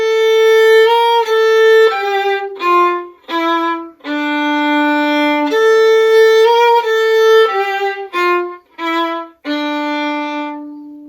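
A solo violin plays bars of a Mahler theme, mixing slurred notes with a dotted rhythm and short detached staccato notes. The tone is clear and close, with brief gaps between phrases and no voices.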